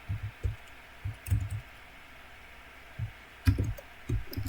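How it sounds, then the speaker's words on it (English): Mouse and keyboard clicks at a computer while a game is running, falling in short scattered bursts of a few soft taps, close and quiet with long pauses between them. "Unless I'm clicking the wrong buttons here."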